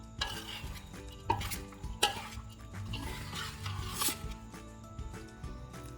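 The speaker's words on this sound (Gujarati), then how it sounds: "આ બધાને સારી રીતે મિક્સ કરી લઈએ." A spoon stirs crumbled sev khamani with fresh coriander in a metal pan, producing scraping, rubbing strokes and a few sharp clinks against the vessel, close and moderately quiet with no talking.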